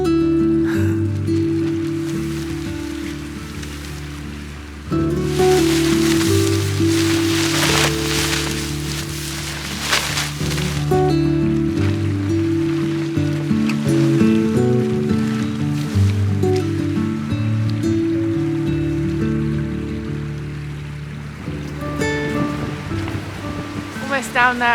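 Heavy rain pounds a tarp shelter in a forest during strong wind, a steady dense patter and drumming that carries on throughout under a low rumbling bed.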